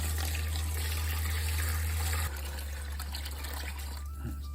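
Water runs steadily from a tap into a tub used for defrosting feeder rats, a continuous rushing flow that drops slightly in level partway through and then carries on, heard close with no talk.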